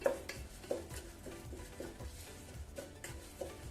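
Lentils stirred and roasted in melted butter in a pan for sweet jaggery pongal, quiet scraping and soft clinks of a spoon in an irregular rhythm with a faint sizzle underneath.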